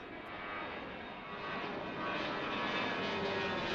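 Airliner departing Washington Reagan National Airport, a steady broad engine roar that swells louder over several seconds as the jet climbs out nearby, with no talking.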